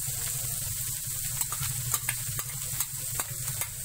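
Finely minced ginger sizzles steadily in a hot frying pan while a utensil scrapes and stirs through it in quick, irregular strokes, close and clear with no talking, while dinakdakan is made from leftover lechon.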